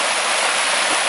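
The Little Pigeon River rushes close by along a backpacking trail, a loud, dense, unbroken roar of flowing water.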